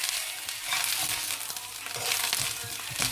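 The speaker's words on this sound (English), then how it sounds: "we're going to give it a quick stir, mix all in the flavour" Meat stirred with onions and garlic in a hot pan for lasagne, a dense close sizzle with scraping spoon strokes, short and unbroken with no voices.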